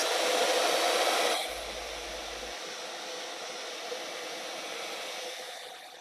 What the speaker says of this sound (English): let me blow dry it just for a quick second to make sure I can handle it and touch it